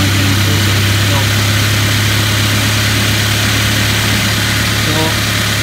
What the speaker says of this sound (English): It's not putting adequate tension on the belt, so it's squealing